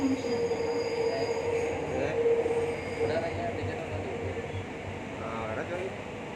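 Kochi Metro train running between Vyttila and Aluva, a steady rumbling ride with faint wheel squeal and air-conditioning hum while a recorded announcement plays over it.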